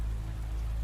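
Steady rain falls on a surface in a dense, continuous hiss with a low rumble beneath, at an even level and with no voices.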